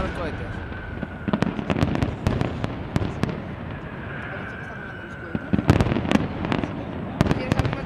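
Repeated sharp fireworks rocket bangs and crackles burst irregularly in a fireworks display, clustering into a rapid volley near the end, with voices talking underneath.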